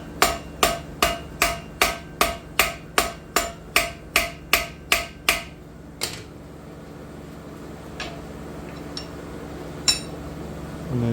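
Steady run of about fourteen sharp hammer blows on a nail being forged old-style in a vise, ringing metal strikes close up, then a quieter stretch with a few scattered clinks.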